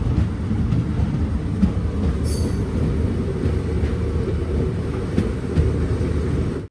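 The Chennai Egmore Express rolls toward Chenkotta on the Kollam to Madurai line, a steady loud rumble with faint clickety-clack of wheels heard from on board, alone and without talk.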